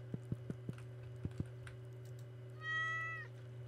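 A cat in Stardew Valley gives one clear, mid-pitched meow near the end, after a few soft clicks over a steady low hum of game background sound.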